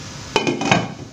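A metal lid set onto a steamer pot in a kitchen, giving several quick clanks and rattles as it settles, close and fairly loud.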